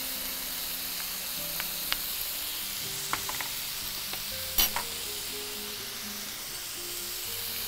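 Ginger garlic paste frying in a pan with tomatoes gives a steady soft sizzle, broken by a few sharp stirring clinks and scrapes from a utensil.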